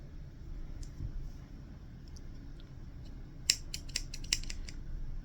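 Small scissors snip through yarn from a knitted ear warmer in a quiet room, a few faint clicks followed by a cluster of crisp, close cuts.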